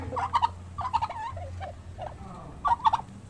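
Rhode Island chickens in a farmyard give short clucks and throaty gobbling calls in bursts close by, with a low background hum and no clear speech.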